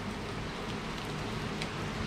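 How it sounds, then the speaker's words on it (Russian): Morning rain falls in Lazarevskoye, a steady, even hiss of drops with no pauses or voices. "На Зрецком дождь идет."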